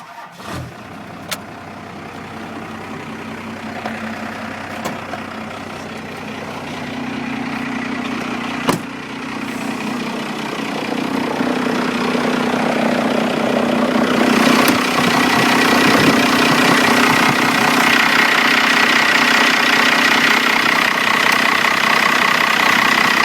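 A 1992 Cummins diesel engine in a 4x4 conversion truck cranks briefly, catches, and settles into a steady, rough, clattering idle that grows slightly louder and fuller over time.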